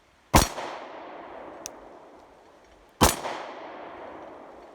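Two sharp 9mm shots from a Glock 26 compact pistol ring out about three seconds apart, each a loud crack followed by a long metallic ring as a bowling pin is struck, fading into a reverberant tail.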